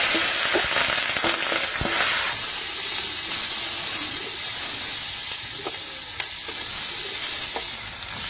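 Onions and chillies sizzle loudly in hot oil, a constant crackling hiss with occasional scraping stirs from a spatula.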